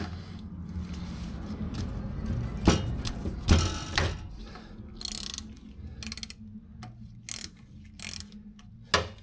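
A ratchet works loose a 17mm oil drain bolt under a GR86 sports car, giving quick clicking mechanical bursts and a few sharp metallic knocks amid low background rumble, close by with no speech.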